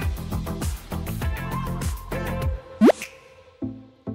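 Water drips in a children's cartoon scene, a single bright plop with a rising tone after a rhythmic musical passage, followed by soft thuds.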